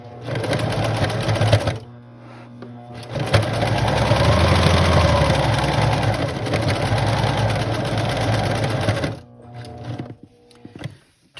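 Sewing machine stitching around the edge of a rustic farmhouse potholder, a steady loud motor whir running for several seconds with brief pauses at the start and end as the fabric is turned.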